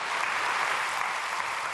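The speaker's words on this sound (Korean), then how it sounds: "우리 목사님 나오신 거 박수로 환영해 주시기를 바랍니다" A church congregation at a prayer meeting applauds to welcome a pastor. The clapping is steady and dense but fairly soft and distant, with no speech over it.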